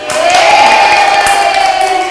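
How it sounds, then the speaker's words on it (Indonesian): A classroom of students at a micro-teaching session clap and cheer loudly, a bright swell of voices and whoops over scattered clapping that rises quickly and then eases off slightly. "Ya, beri tepuk tangan dong."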